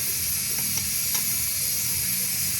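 Curry powder stirred into sizzling cabbage in a hot pan, giving a steady close frying sizzle with faint scraping stir strokes throughout and no voices.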